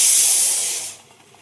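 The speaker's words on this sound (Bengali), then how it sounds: "এই যে চায়ের জল ফুটছে এবার চা পাতা দেবো" Water boiling for tea in a home kitchen gives off a loud, steady steam hiss that fades sharply after about a second, leaving a faint bubbling murmur.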